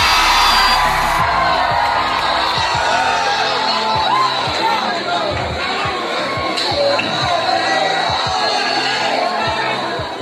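A village comedy show audience roars with cheering, whoops and shouts, a dense continuous crowd noise at close range with bursts of clapping running throughout.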